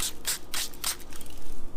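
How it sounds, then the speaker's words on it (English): Application solution sprayed onto the back of a tint piece for a Dodge Charger tail light, heard as four short, close hissing spray bursts in quick succession, then quieter handling noise, with no talking. "Start off by spraying your surface"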